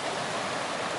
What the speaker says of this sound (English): I'd call it a stream.